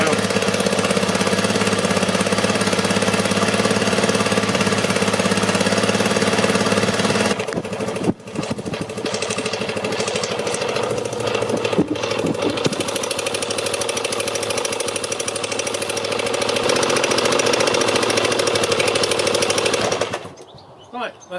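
A barn-find Honda XR250RT motorcycle, restored, runs with the choke off: a loud, steady near engine idle with rapid knocking pulses, a shift in tone about a third of the way through, then an abrupt cut near the end.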